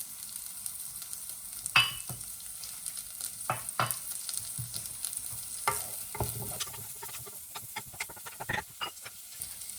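Dry spices including ginger, galangal and chilies frying in a pan while being stirred, a soft steady sizzle with scattered scraping taps of the spoon, fairly quiet and close, no talk.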